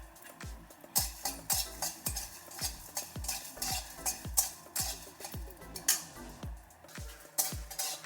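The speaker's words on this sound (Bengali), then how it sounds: "শুকনো খোলায় একটা মশলা করে নিচ্ছি।" Whole cumin, a bay leaf, coriander seeds and dried chillies are dry-roasted in a pan, stirred with brisk, rhythmic scraping strokes about twice a second, close and clear, with light rattling of the seeds and no talking.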